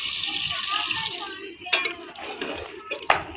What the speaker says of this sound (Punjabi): ਮੈਂ ਹੁਣ ਜਿਹੜਾ ਨਾ ਪਾਣੀ ਲਾਉਣ ਲੱਗੀ ਹਾਂ